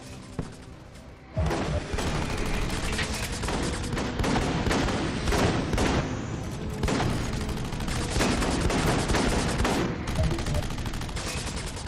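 Rapid bursts of weapon fire in the video game Section 8: Prejudice, loud and dense, with sustained automatic volleys and sharp reports continuing for several seconds after a quieter opening.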